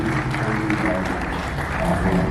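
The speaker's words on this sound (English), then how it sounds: "A round of applause for them" An audience applauds panelists at the close of a panel session, steady dense clapping heard close and filling the whole stretch, with a faint voice underneath.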